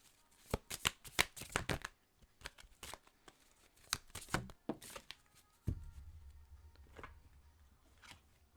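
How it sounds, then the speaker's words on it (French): Oracle cards shuffled for a card reading, a close run of crisp riffling bursts and slaps that come in uneven clusters with short pauses, followed by a faint low hum. "Et on va aller chercher une dernière carte."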